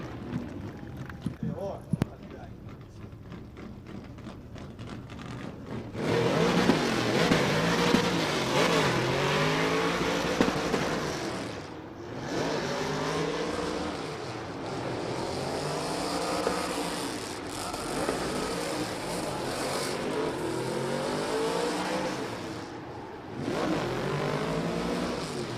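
Nissan Silvia drift car powering through a drift course at a championship qualifying run, engine loudly revving and wailing with rising and falling pitch sweeps, tyre noise, close and continuous under excited commentary.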